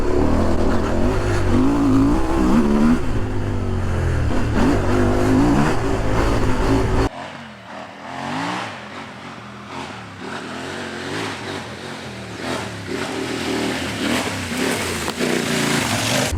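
CFMOTO 800MT-X adventure motorcycle revving off-road, a loud close engine roar rising and falling in pitch for about seven seconds, then dropping to a quieter, rougher running sound with wind.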